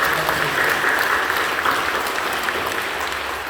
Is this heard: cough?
no